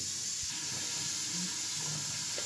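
Onion fries in a pan with a soft, steady sizzle and hiss, heard close and fairly quiet, with a few faint clinks and no voices.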